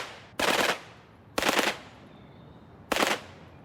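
A Sten submachine gun fires three separate short bursts, each a loud dense rattle lasting about a third of a second, spaced roughly a second apart, with no voices.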